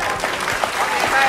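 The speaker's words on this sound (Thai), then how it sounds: "ปรบมือให้น้องปุ้นหน่อยครับผู้ชมคร" Close, loud applause from an audience at a Thai market show, dense clapping through the whole short stretch with voices mixed in.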